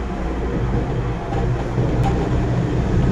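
An LRT train rumbles at San Dionisio station in Parañaque, a loud, continuous low roar of rolling wheels and motors that swells slightly partway through, with no talk.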